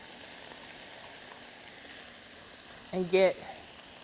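Ground beef and onions sizzle and fry steadily in a pan, a constant close hiss that runs through the clip, with a brief spoken phrase near the end.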